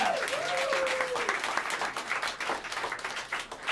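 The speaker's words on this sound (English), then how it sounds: "give a warm round of applause for the great EJ Strickland on the drums" A small jazz club audience applauds for the drummer during a live sextet set, a steady wash of clapping with a brief voice rising over it near the start.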